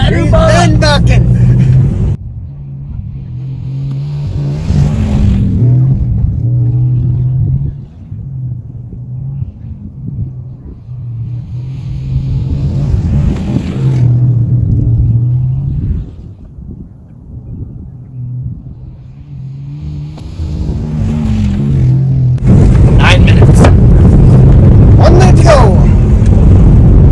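An engine running on peanut oil bogs down and bucks, a low uneven rumble that surges and sags in waves over nearly half a minute, with people talking over it.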